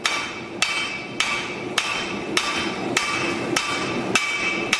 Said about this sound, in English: a hammer swap over to his 900-gram Farrier's hammer